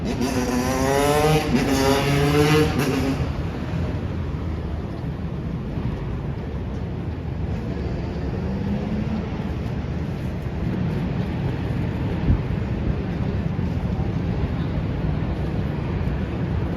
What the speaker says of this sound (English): I think there's a bunch of motorcycles coming.